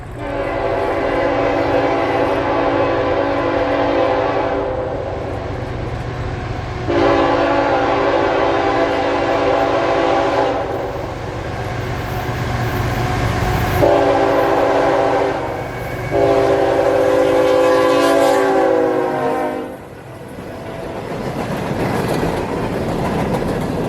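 A CSX unit freight train of empty coal cars rolls past with a continuous heavy rumble. Its locomotive horn sounds four loud, sustained blasts, the last two close together.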